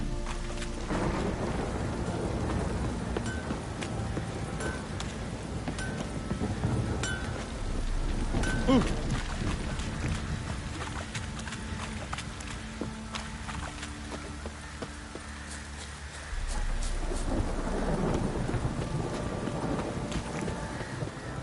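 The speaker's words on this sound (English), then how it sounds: "This downpour's a bastard." Steady heavy rain pours throughout in The Witcher 3: Wild Hunt, with low rumbling thunder rolling in the background and a sharper crack near the middle.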